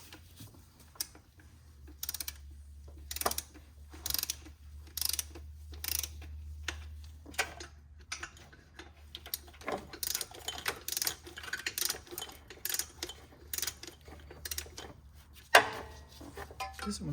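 A ratchet wrench clicks in short, rhythmic bursts while tightening the valve cover bolts one by one to 7 foot-pounds on a 2006 Honda Odyssey 3.5L V6, close and moderately loud over a low engine-bay hum.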